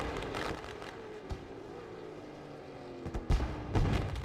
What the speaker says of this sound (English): I can hear fireworks.